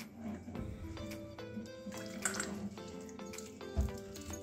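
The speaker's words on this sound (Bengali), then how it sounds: "এবারে একটু জল দিয়ে দেবো।" Water poured into thick mango batter for Bengali patisapta, a quiet trickling and splashing with a few soft dripping sounds and clinks in a kitchen.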